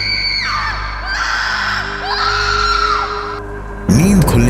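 A loud scream in a horror-story soundscape: piercing wavering shrieks sweep across the first few seconds over a low droning background, then a sudden harsher, louder wailing cry bursts in near the end.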